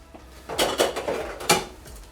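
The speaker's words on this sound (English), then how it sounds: "Dirty dishes. Cleared away." Dirty dishes and cutlery being cleared away, several clattering clinks and knocks of plates and utensils in quick succession, close and fairly loud with no talking.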